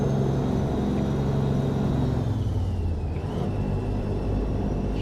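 Western Star truck engine revving in American Truck Simulator, a loud steady drone with a high whine that dips briefly partway through, then holds.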